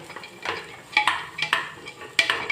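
Chana dal roasting in ghee while a spoon stirs it, giving quiet sizzling broken by several distinct scraping clinks against the pan at irregular intervals.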